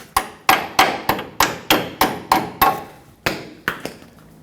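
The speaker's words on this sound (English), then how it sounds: "maybe even use a hammer, and just tap it out the rest of the way" Sharp metallic hammer taps ring out one after another, knocking out a lower control arm bushing on a Chevrolet Colorado, about a dozen evenly spaced blows with a brief pause before the last few.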